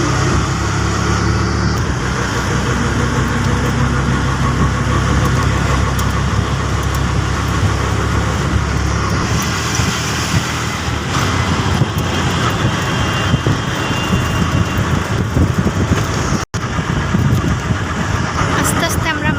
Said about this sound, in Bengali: আবারও সিএনজি উঠতে যাচ্ছি।